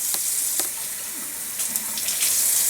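Hot water runs from a tap into a sink while canning jars are cleaned, a steady hissing flow with a few small clinks and splashes and no talk.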